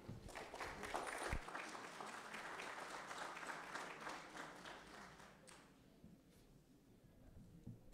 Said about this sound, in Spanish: Con el aplauso de ustedes, lo dejo al expositor.